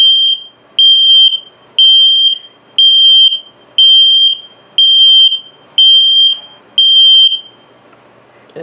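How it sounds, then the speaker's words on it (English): A propane and gas alarm inside a 2021 Airstream Bambi 20FB travel trailer sounds its test: eight loud, high-pitched electronic beeps, each about half a second long, in a steady rhythm, then a short quiet tail. "It's just going to make an annoying little beep"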